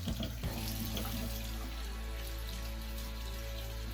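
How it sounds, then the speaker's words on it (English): Water runs steadily from a tap into a sink during handwashing, a constant close hiss and splash with small changes in the flow at the start. "let me wash my hands."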